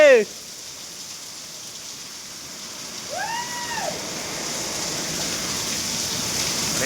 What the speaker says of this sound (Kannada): ಇಲ್ಲಿ ನೋಡ್ರಿ ಮಳೆ ಸುರಿತೈತಿ